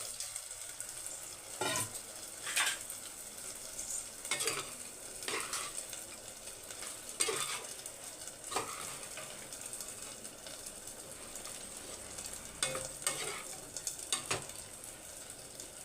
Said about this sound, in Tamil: இப்போ வந்து நம்மளோட உருளைக்கிழங்க சேர்த்துடலாம்